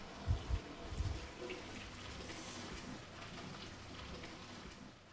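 Cooked spaghetti is poured into a colander to drain, a steady rushing splash of hot water that starts with a few heavier sloshes and then runs evenly and close, with no voices over it.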